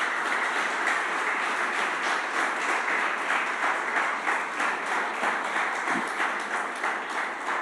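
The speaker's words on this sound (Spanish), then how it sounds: "¿Por qué no le das un aplauso al Señor entonces?" A church congregation applauds steadily and loudly throughout, a dense wash of many hands clapping with no pauses or speech.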